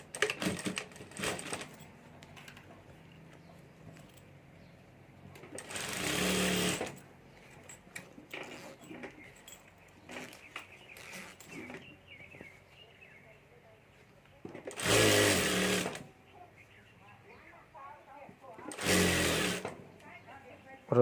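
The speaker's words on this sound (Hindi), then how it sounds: "यहाँ हमें सिलाई करके दोनों जिप हमें अस्तर के साथ जोड़ देनी है" Sewing machine stitching two zips onto the lining of a handmade handbag, in several separate bursts of steady, rapid whirring between quieter handling and pauses.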